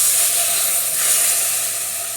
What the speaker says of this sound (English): Now make a gap for your ladle of base gravy to go in there to sizzle and caramelise.